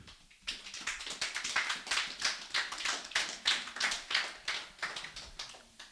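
A church congregation claps together in a steady, even rhythm, about two or three beats a second, heard from some distance and fairly soft, with no talking over it.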